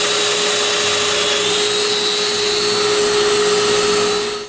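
A domino joiner cuts mortises in mitered wooden corners of a night stand base, running as a steady loud whining motor hum with a high tone for several seconds before spinning down at the end.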